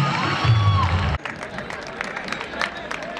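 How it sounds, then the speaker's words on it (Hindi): Crowd at a school annual and farewell program bursts into sustained clapping and cheering with a busy babble of voices, continuing steadily after a sudden cut from a humming, tonal stretch. "जोरदार तालियां हो जाए वापस से।"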